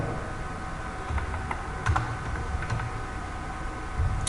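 Someone types on a computer keyboard at close range, producing a loose, irregular run of soft key clicks over a steady background hiss.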